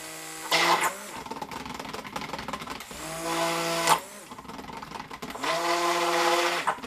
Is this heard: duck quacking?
no